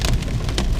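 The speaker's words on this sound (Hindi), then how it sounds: "बहुत तेज बारिश है।" Heavy rain mixed with large hailstones pounding a car during a storm, a dense, loud, continuous drumming and hiss on the body with no speech.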